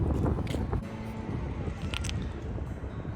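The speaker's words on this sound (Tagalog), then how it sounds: "Lakas ang hangin. Ang hangin dito." Strong wind in Qatar buffets the microphone with loud rumbling gusts, with faint water-like sounds underneath.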